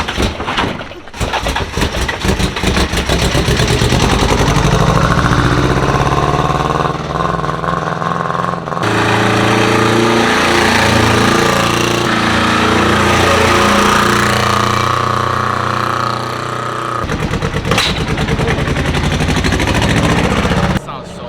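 A car engine with rod knock and a cooked clutch runs loud and close, a harsh rattling roar that rises and falls with revving before dropping off, with people talking over it.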